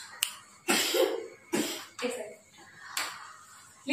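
A young child coughs in several sharp bursts, about four coughs spaced across a few seconds, close and fairly loud, with brief gaps of room quiet between them.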